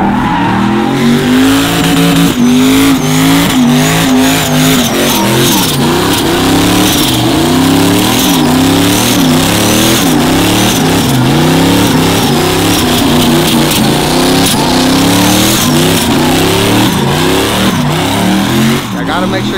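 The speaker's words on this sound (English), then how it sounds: "We did a badass burnout last night." A Chevrolet Z71 truck doing a burnout, the engine roaring loudly and revving in repeated rising and falling waves while tires squeal and skid continuously for a long stretch, close up.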